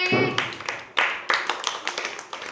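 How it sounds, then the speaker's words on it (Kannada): Children clap along in a classroom brain-exercise activity, a short ragged burst of sharp claps followed by scattered, uneven smacks fading out over a couple of seconds, with faint voices behind. "ಚಪ್ಪಾಳೆ"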